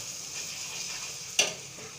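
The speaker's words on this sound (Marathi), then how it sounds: "कांदा आपल्याला खूप छान भाजून घ्यायचा पूर्ण असा एकजीव झाला पाहिजे" Onion fries quietly in a pan for egg tawa masala, a faint steady sizzle broken by a single sharp clink of a spoon near the end.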